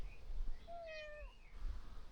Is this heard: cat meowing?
yes